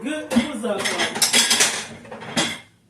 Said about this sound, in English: I'm going to plate it up.